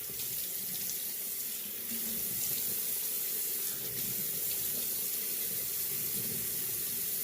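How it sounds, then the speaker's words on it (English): Tap water runs steadily into a bathroom sink while someone wets their face, a continuous close splashing hiss with slight shifts as hands move through the stream. "So first, I like to wet my face."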